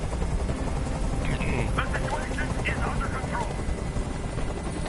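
A helicopter in the Detroit: Become Human video game keeps up a loud, steady rotor roar throughout, with game voices talking over it.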